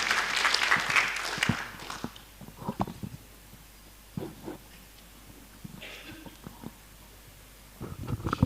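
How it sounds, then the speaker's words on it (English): Brief applause from a seminar audience at an international relations seminar on gender, a dense burst of clapping in the opening seconds that quickly fades under scattered voices and room noise. "Ladies and gentlemen, please give a big applause to Mr."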